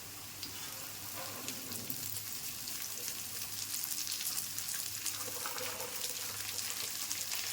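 Cabbage added to onions already browning in a pan, sizzling and frying steadily at close range with a dense, even crackle throughout; no voices.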